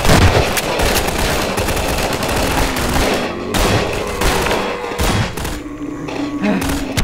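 Heavy video-game gunfire, dense and continuous, with rapid overlapping blasts and thumps for about seven seconds. It fits a shotgun being fired repeatedly, stays loud throughout and carries no clear speech.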